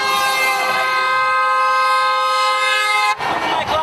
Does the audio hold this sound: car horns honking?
yes